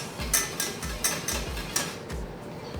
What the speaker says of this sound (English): So we just want to keep stirring this so it doesn't catch on the bottom